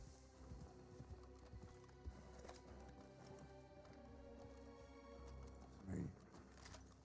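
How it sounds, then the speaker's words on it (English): Faint, steady hoofbeats of a horse clip-clop along under a low background hum, with a louder thud near the end. "I hear a horse."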